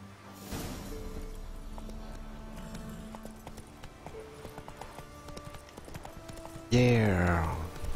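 Horse hooves gallop in steady rhythmic clip-clop on a dirt road in The Witcher 3, moderately loud under game ambience for most of the stretch, ending in a burst of louder voice or exclamation.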